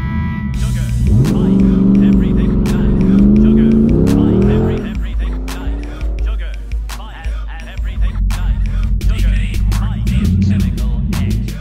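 A car drifting at a desert event revs loudly, its engine note rising and falling, then gives way to choppy bursts and what sounds like tire squeal as it slides.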